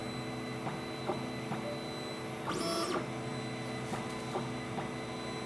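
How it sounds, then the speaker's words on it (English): A Duplicator 6 3D printer running its auto bed leveling routine: a quiet, steady mechanical hum with faint ticks, broken midway by one short stepper-motor whine that rises and falls. "please wait until the auto bed leveling process"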